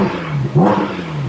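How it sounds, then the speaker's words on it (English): A Porsche 718 GT4 RS Weissach engine revs indoors in a showroom, a single brief, close throttle blip that rises sharply and then falls back toward idle. "I'm gonna give it some last revs"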